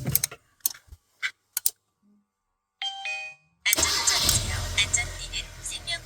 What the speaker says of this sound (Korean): 알터 신호선이 들어오면서 크랭킹이 멈추긴 하지만